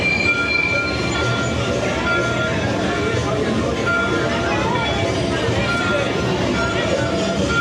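A theme park train at Disney World runs along its rails with a continuous rumbling, rattling roll and faint squeals of the wheels, steady and fairly close, with people talking over it.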